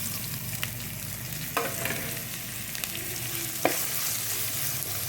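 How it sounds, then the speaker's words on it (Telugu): Onions, ginger pieces and green chillies fry in a pan, giving a steady close sizzle with occasional sharp pops and crackles from start to finish. "ఇవి ఉల్లిపాయలు, అల్లం ముక్కలు, పచ్చిమిరపకాయ ముక్కలు, ఇవన్నీ వేసేస్తానండి."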